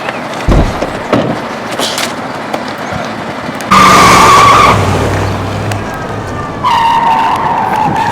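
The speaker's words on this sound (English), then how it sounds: "here's another car!" A car skids with a loud, sustained tire squeal that cuts in abruptly midway, fades, then returns with a second shorter screech, over outdoor street noise with no talk.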